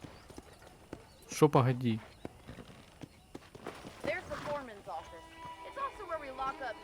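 Horse hooves clip-clopping on the ground in the video game Red Dead Redemption, a few distinct clops heard near and clear between bursts of conversational speech, with game music tones toward the end.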